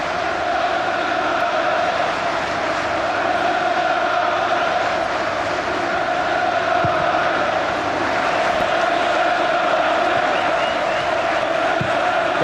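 A football crowd of 58,293 at Old Trafford roars continuously during a 1999-00 Premier League match between Manchester United and Arsenal, a dense, steady wall of chanting and cheering that never breaks.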